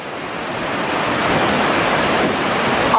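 Roaring waves of the swollen Ganges river in monsoon flood, a steady, loud, broadband rush of churning water with no talk, close and continuous throughout.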